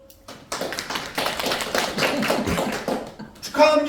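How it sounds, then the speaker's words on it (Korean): Meeting attendees breaking into applause, a burst of many hands clapping together at close range for a few seconds, followed by a voice speaking. "박수!"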